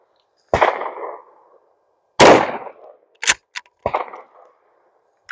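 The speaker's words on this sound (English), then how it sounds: "Let's see what kind of pattern we get with these short shells." Mossberg Maverick pump shotgun firing Aguila short shells at a range: two loud sharp reports, each with a decaying echo, plus metallic clacks of the action between and after.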